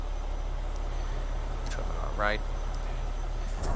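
A Kenworth T680 truck with The General engine mod runs steadily in American Truck Simulator, heard from inside the cab with the window down, a constant low drone with a brief rising tone and a short spoken word over it.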